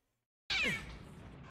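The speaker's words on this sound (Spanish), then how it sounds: "Suena el gato de la taquilla de la derecha." A single cat meow in a video game sounds from inside a locker, one clear, close, drawn-out cry that fades slightly over about a second.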